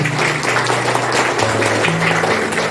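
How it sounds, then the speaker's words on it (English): Applause from an audience for the teachers at a school parents' orientation programme, a steady broadband wash of clapping that holds evenly through the whole stretch, with a faint low hum beneath it. "Give a big round of applause to all the teachers."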